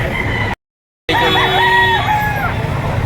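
Roosters crowing and chickens clucking at a poultry market at midday, a loud drawn-out crow rising over a busy din of birds, with a brief dropout of silence just before it.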